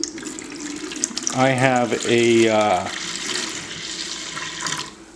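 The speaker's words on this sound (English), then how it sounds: "we're just going to pour all 120 ounces in" Pomegranate juice pours steadily into a carboy while mead is being made, a continuous splashing stream beneath a person talking nearby.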